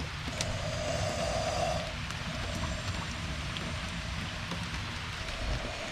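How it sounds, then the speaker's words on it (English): Rain falls during a storm over outdoor turtle and tortoise enclosures, a soft, steady patter and hiss running throughout at a moderate level, with a brief tonal sound near the start and no talking. "then the rain happened"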